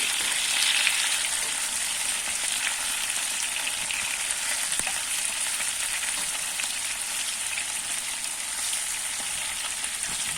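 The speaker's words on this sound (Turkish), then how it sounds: "Şimdi patateslerimi karıştırmaya geçiyorum. Hafiften e, kızarıyor arkadaşlar ve bu şekilde çeviriyorsunuz." Potatoes frying in oil in a pan, a continuous loud sizzle heard up close with faint scrapes of stirring throughout.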